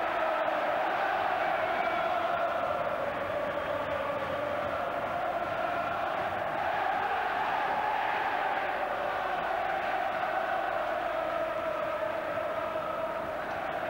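Steady, roaring football crowd noise from a 14,600 crowd at Kenilworth Road stadium during an FA Cup replay, a dense continuous wash of chanting and cheering with no breaks.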